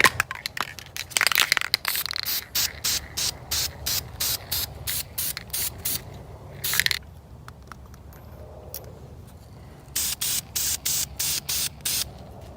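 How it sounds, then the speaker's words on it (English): A wooden glide bait cut from a 2x4 is sprayed with matte tan paint from a can, loud close hissing bursts in rapid repeated pulses, with a longer pause midway before the rhythmic spraying resumes. "I'm gonna seal this here with just some matte tan. Any kind of spray paint will work,"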